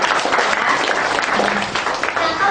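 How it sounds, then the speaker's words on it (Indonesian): An indoor audience applauding at a product presentation, dense continuous clapping from many hands for a couple of seconds. "Tepuk tangan dong buat sabun Nuskin."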